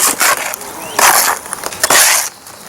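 Rapid set mortar mix is stirred and scraped by hand, giving rough gritty scraping strokes in quick repeated bursts, close and fairly loud.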